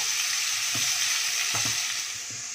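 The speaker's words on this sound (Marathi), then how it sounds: "कांदा आणि गॅस फ्लेम स्लो ठेवूया आणि कांदा वगैरे आपण हे सोनेरी रंगावर परतूया." Chopped onion frying in oil over a slow gas flame for a Kolhapuri cashew masala curry, giving a steady close sizzle with a few soft stirring scrapes and no talk.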